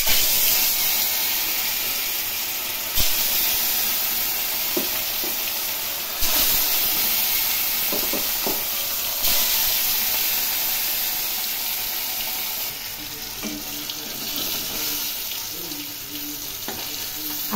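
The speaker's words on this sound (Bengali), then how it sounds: "এখন তেলের মধ্যে দিয়ে ভেজে নেব।" Rohu fish pieces rubbed with salt and turmeric fry in hot oil, giving a steady close sizzling hiss with soft crackles and occasional stirring or handling clatter, with no talking.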